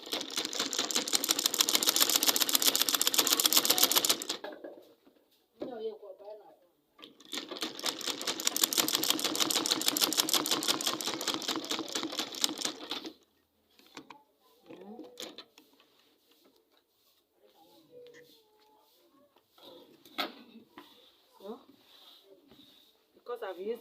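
Sewing machine stitching a pocket onto a gown: two loud, rapid bursts of mechanical stitching, each several seconds long, separated by quiet gaps, followed by fainter handling noises and small clicks.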